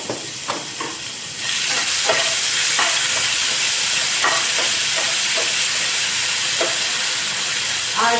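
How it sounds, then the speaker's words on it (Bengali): Ginger paste dropped into hot mustard oil left from frying paneer in a wok: a quieter sizzle with a few stirring scrapes swells into a loud, dense, continuous frying hiss, punctuated by spoon scrapes and clicks. "পনির ভাজার তেলের মধ্যে আমি দিয়ে দেবো একটু আদা বাটা"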